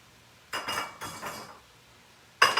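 Crumbled tofu tipped into a pan with softened tomatoes, giving a few scraping, clinking bursts of utensil on pan, then a pause and one more sharp clatter at the end.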